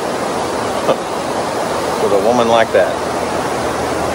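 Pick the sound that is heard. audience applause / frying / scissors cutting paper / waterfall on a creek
waterfall on a creek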